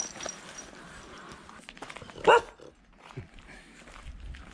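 A single sharp bark from a chained dog rings out nearby amid quiet rural outdoor ambience, with faint footsteps or shuffling around it.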